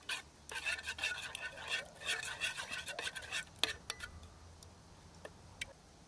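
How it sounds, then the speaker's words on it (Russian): A utensil stirring and scraping against a bowl in quick, irregular taps and clinks, fading to occasional clicks. "И перемешиваем."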